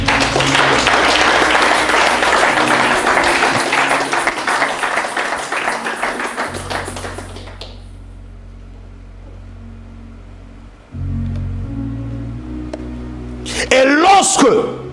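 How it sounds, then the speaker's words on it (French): A church congregation bursts into loud, sustained applause and cheering in praise of the Lord, dense clapping that fades out over several seconds before a low hum and a preacher's voice return. "Qui va acclamer le Seigneur?"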